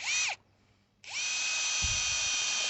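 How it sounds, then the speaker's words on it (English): A standard handheld electric drill with two speed settings whines loudly, spins down briefly to near silence, then ramps back up and runs at a steady high pitch, with a low bump partway through. "What I'm using here is a standard drill"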